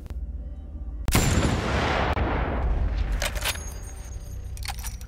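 A single loud, sharp rifle shot from the Battlefield 1 World War I shooter cracks out close by and rolls into a long, booming tail. Fainter clicks and rattles follow, and nobody speaks.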